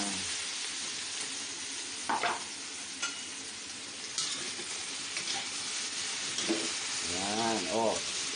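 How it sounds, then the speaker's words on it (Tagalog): Potatoes sautéing in a pan with garlic, a steady soft sizzle with occasional scraping stirs, close and moderately quiet, with a brief voice near the end. "Masarap pag nakagisa to. Sabay na natin yung patatas."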